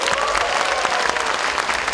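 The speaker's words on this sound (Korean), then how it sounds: "큰 박수와 격려의 박수 한번 부탁드리겠습니다" Delegates at a Democratic Party convention in Daejeon give a full hall round of applause, thick sustained clapping throughout with no talk on top.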